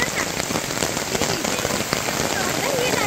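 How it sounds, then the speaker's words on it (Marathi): Heavy rain pouring down in a downpour at the start of the monsoon season, a dense, continuous hiss of drops drumming on surfaces, close and steady throughout. "एकदम जोराचा पाऊस आलाय"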